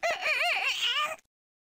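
A single rooster-like crow in a video game, loud and close, stretching about a second with a wavering, warbling pitch before cutting off to silence.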